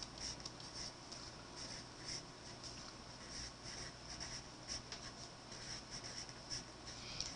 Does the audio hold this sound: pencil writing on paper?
yes